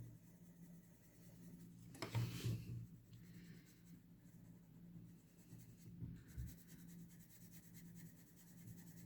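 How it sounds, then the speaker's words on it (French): A pencil colours a picture in circular strokes, giving a soft, close scratching and rubbing that swells in a couple of louder bursts and otherwise stays faint, with no talking. "Voyons si je colorie en rond. Oui, c'est mieux. C'est mieux de colorier en rond."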